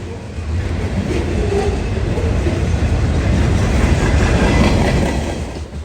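A long manifest freight train rumbles past close by, steady heavy rolling noise with faint rhythmic wheel clatter, no voices.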